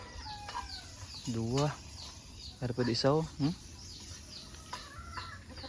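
Backyard chickens and three chicks make a few bursts of clucking and squawking, close by and fairly loud, with someone talking casually in between.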